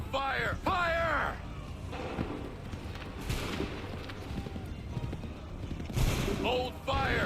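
Musket volley gunfire in Assassin's Creed III, with bursts of shots and booming reports between shouted commands, plus background battle noise.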